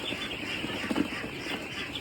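Thirteen-day-old ducklings, disturbed on purpose, let out faint, scattered quacks and peeps that rise briefly above a constant background hiss.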